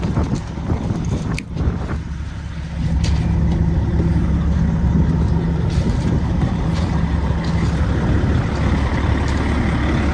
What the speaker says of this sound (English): Just waiting for the truck to warm up.